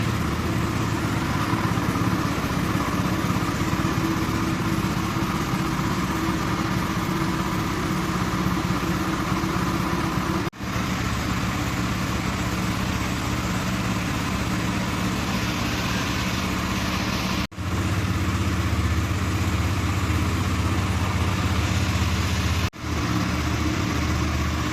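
A Honda Winner X150 motorcycle engine idling steadily after a fresh oil change, a constant close, loud mechanical hum with a few brief dropouts and no talk.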